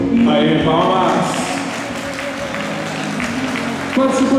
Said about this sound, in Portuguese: Aê, palmas!